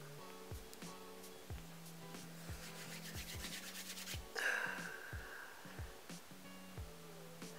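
Split dreadlocks are rubbed between the palms, giving a soft, continuous hair-on-skin friction rustle with a brief louder scrub near the middle, faint and close, over a low background hum.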